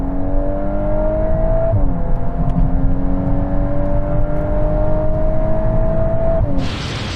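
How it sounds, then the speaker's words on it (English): A VW Golf R and a Honda Civic Type R accelerate hard in third gear during a rolling race from 50 mph, a loud sustained engine drone rising steadily with a gear change near the end. "let's take the launch out of the equation by doing a rolling race in third from 50 miles an hour"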